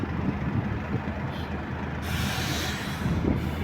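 Heavy trucks with air brakes idle at a border crossing, a steady low diesel rumble with a brief hiss of released air near the middle, continuous and fairly close.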